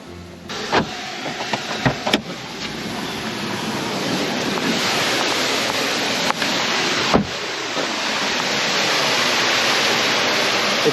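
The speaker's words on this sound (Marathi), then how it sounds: "जागोजागी धबधबे कोसळताना दिसत होते" Steady roaring rush of a waterfall cascading beside a forest road, broad and continuous, with a few sharp clicks and knocks standing out near the start.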